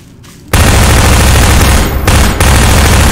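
Loud, dense burst of gunfire from a first-person shooter in Garry's Mod, starting abruptly after a brief quiet and continuing as sustained rapid fire with only short dips, close and overpowering.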